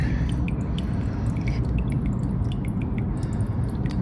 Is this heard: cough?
no